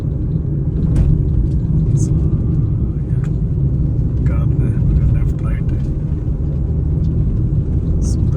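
A car cruises along the Mumbai-Goa highway, producing a loud, steady low rumble of engine and road noise that stays constant throughout. Someone talks over the driving sound.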